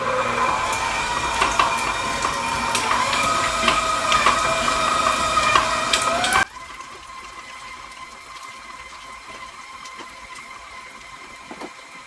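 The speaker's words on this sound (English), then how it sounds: "we want to mix this at medium speed until it's completely smooth" An electric mixer whirs at medium speed through lemon velvet cake batter, a steady loud motor hum with rattling, then cuts off abruptly about halfway, leaving quiet room noise.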